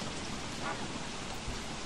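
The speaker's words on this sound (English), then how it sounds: "now it's raining like cats and dogs right now" Steady rain in the video game Don't Starve Shipwrecked, a dense, even hiss of heavy downpour filling the whole moment with no voices over it.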